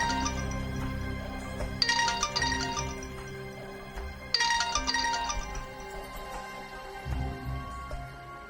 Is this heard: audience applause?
no